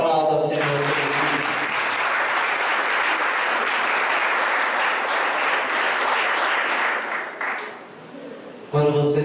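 Loud, sustained applause from a large church congregation fills the room for several seconds before fading, with a voice speaking at the start and end.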